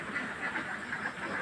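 Hungry farm ducks kept indoors on a rainy, muddy day quack in a faint, repeated rhythm, several short calls at a distance over a steady background hum.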